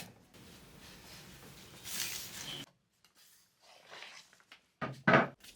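Hand scuff sanding on a wooden bedside table drawer: a steady abrasive rubbing for a couple of seconds, then short scrapes and a sharp knock, close and moderately loud.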